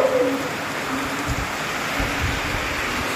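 Heavy rain pouring down as a dense, steady hiss of broadband noise, with a faint bird call briefly near the start and soft low thuds underneath.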